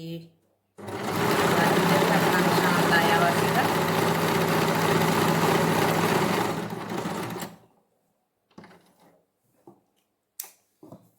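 A sewing machine stitches lace onto a sleeve in one long, steady, whirring run close by, stopping abruptly, followed by a few faint handling clicks.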